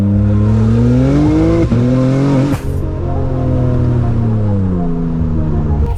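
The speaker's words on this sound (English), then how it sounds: "Pops, crackles, that deep engine growl." BMW M4 G82 engine growling loudly up close, with strong rising and falling revs, a sharp crackle-like break midway and continuous deep exhaust drone throughout.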